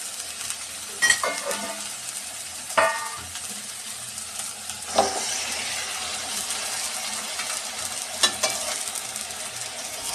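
Marinated broiler chicken pieces fry with browned onions in a pan for a spinach chicken dish, a steady sizzle punctuated by several sharp scraping stirs of a spatula.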